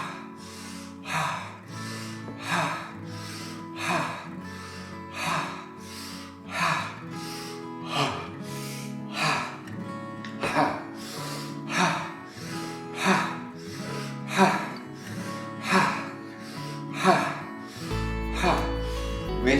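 Rapid open-mouth breathing during an Energy Pumping exercise, a quick, regular series of breathy gasps repeating at close range over soft background music.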